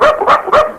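A voice imitates a barking dog with three quick, loud, close yapping barks in rapid succession.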